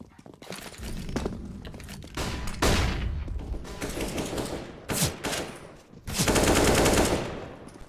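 Bursts of rapid automatic gunfire and single pistol shots crackle through a Counter-Strike tournament match, loud and close, in several separate volleys with brief gaps.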